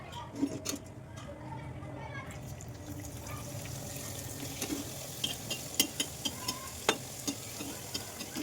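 Karchikayi (gujiya) pastries fry in hot oil, a soft steady sizzle with faint stirring clinks and a few sharper knocks near the end, quiet, while someone speaks.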